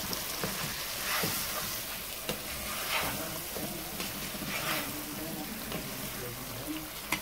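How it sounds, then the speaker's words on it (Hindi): Fried chicken is stirred into a butter chicken tikka gravy, a dense, even sizzle with soft wet stirring movements, steady and close throughout. "ये जो चिकन फ्राई किया था इसको अब हम इसके अंदर अच्छी तरह मिक्स करेंगे"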